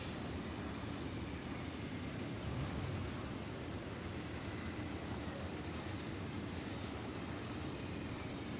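A dispatched train in Factorio with the Pyanodon's mod rolls along as a steady, dense rumble that holds at an even level throughout, with no talking over it.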